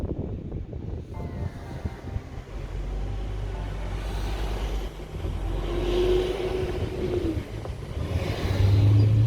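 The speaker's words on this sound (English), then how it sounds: "you guys need to be able to hear what the car sounds like" Steady low engine rumble from inside a moving Toyota Crown, with wind and road noise building slightly toward the end; no talking.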